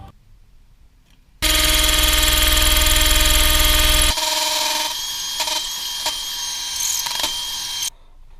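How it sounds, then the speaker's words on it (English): A drill fitted with a metre-long bit bores through a wooden door frame, a loud steady whine that drops to a lower, uneven grinding as it cuts, then stops abruptly. "I ended up sticking that long metre long STS bit in here and just lightly drilling through."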